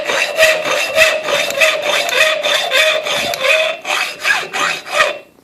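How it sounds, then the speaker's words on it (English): Hacksaw cutting a length of metal, close and loud, with fast back-and-forth rasping strokes in a steady rhythm that falter briefly near the end. "And now the line is turning away from my hacksaw blade."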